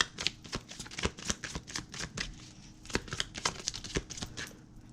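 Tarot cards being shuffled by hand, a quick steady run of crisp riffling snaps and slides, close and clear with no talking.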